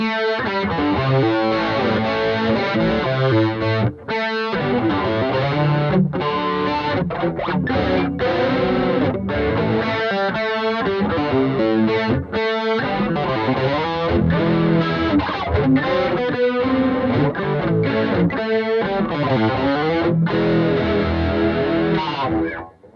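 Electric guitar played through Golden Horse and Donner Blues Driver overdrive pedals stacked together, producing a thick, driven tone with sustained chords and riffs that continue loudly and steadily throughout, with no voices.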